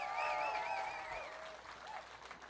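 Applause from a crowd at a Bassmaster Elite fishing tournament weigh-in on the St. Lawrence River, with steady clapping and a few cheers and whistles over it that taper off.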